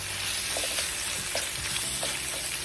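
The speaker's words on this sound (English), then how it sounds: "We're gonna let it get a nice sear on each side." Beef searing in a hot pan for a beef and broccoli stir-fry: a steady, close, loud sizzle with crackling pops throughout and no talking.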